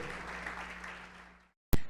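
A church congregation applauds at the close of a Wednesday evening sermon, a dense, even patter of many hands that fades away, followed by brief silence and a sharp thump at the very end.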